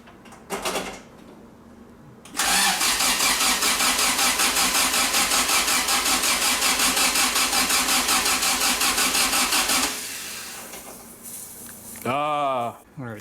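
Car engine with a 20-valve 4A-GE head and new cams cranks, then catches and runs loudly with a rapid pulsing idle for several seconds before cutting off; a brief voice follows. A banjo bolt washer is leaking.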